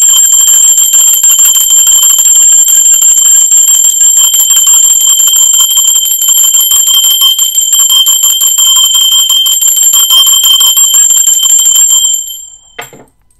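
A bright metallic bell rings continuously and loudly with a sustained high trill for about twelve seconds, then stops abruptly.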